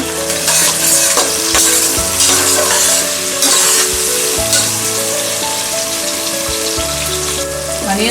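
Onions and tomatoes are stirred and fried together in a pan, giving a loud, constant sizzle broken by repeated scraping and clinking stirs, with a cooking hum underneath and no voices.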